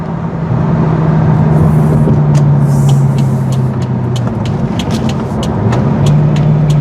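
A 2002 Chevrolet Corvette engine runs steadily up close, its low hum dipping and rising as gears change, with faint clicks and rattles over the drone.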